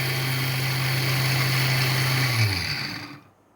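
An electric mixer grinder whirs steadily as it grinds spices for a cold summer juice, a loud continuous motor drone that slows and winds down to silence in the last half second.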